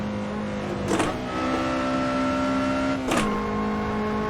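Lotus Elise SC engine in the Assetto Corsa racing game revs hard with a sustained high-pitched drone, broken by two quick gear changes that briefly cut and shift the tone.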